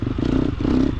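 A new Triumph TF250X motocross bike's exhaust pulses in short bursts of throttle, a loud, close, raspy engine note with no talking.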